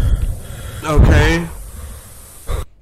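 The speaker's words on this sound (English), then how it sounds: "Stop breathing so hard." Heavy, gasping breaths from someone exploring a found-footage Backrooms setting, a loud surge of ragged inhales and exhales in the middle, then a short huff near the end before sudden silence.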